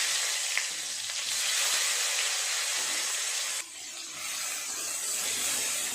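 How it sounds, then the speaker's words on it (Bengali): Onion frying in hot oil in a pan with a chilli and a bay leaf, a steady close sizzle and hiss broken by faint scraping stirs and a short dip as the pan is worked. "পেঁয়াজটা একটু নেড়ে চেড়ে ভেজে নেব।"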